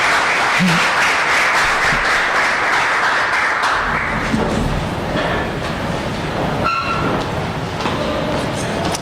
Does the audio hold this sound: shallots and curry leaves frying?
no